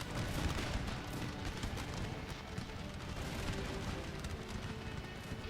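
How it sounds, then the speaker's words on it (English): Cannon fire in the video game Empire Total War during a battle: a dense, continuous rumble of booming shots and battlefield noise, loud and sustained, with no distinct gaps and no talking. "Cannon shots rolling in."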